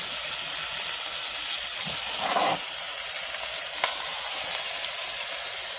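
Chicken sizzles steadily in hot oil in a skillet, a loud continuous hiss with a brief bubbling flare partway through.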